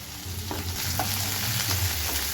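Chopped onions fry in hot oil with dried red chillies, coriander, mint and curry leaves for a ridge gourd egg curry, giving a steady, close, continuous sizzle with no talking.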